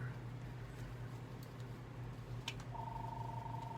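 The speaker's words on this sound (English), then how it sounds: "The phone's ringing." A telephone rings faintly indoors, a steady electronic tone starting near the end over a low background hum.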